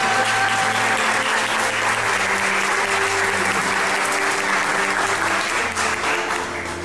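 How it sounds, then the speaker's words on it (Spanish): Loud, sustained applause from a large crowd, steady clapping filling the whole stretch without pause. "Pido un fuertísimo aplauso para todas."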